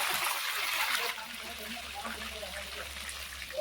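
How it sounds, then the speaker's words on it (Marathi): Hot oil spatters as green chillies fry, making a loud, steady crackling hiss that fills the clip, with faint muffled voices in the background. "तेल उडतंय मिरच्यांमधून."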